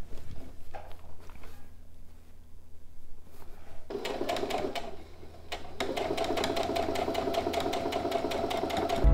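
A domestic sewing machine stitches the side seam of a quilted fabric pouch. After a few quiet seconds with light handling, a fast, steady mechanical whirring and clatter starts up close and keeps going at full speed.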